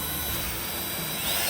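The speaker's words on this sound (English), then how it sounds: "drill a hole, or attempt to, I should say" A steady, high-pitched mechanical whine of a power drill boring a hole for a nitrous install, loud and continuous for the whole stretch.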